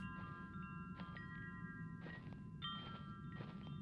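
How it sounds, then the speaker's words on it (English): Wind chimes tinkling in the horror game The Dire, growing louder, with several separate bright ringing clusters over a steady low rumble of ambient noise. "Wind chimes, pretty classic. Wind chimes getting louder,"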